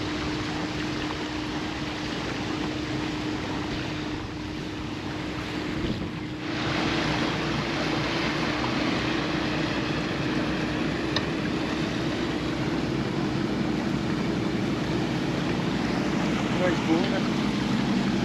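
A tour boat cruising on a river in the Norfolk Broads, heard as a steady low engine hum and water wash under continuous wind noise buffeting the microphone, with a brief dip midway before the rumble resumes.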